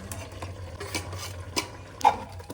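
A spoon stirs ground spice masala with black pepper into a cooking dish, giving a few scraping, clinking strokes against the pot over a low background hum, with one sharper scrape near the end.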